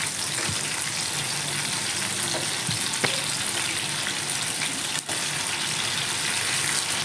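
Chicken pieces frying in a pan for chilli chicken gravy, a loud continuous close sizzle with a few faint clinks of turning pieces.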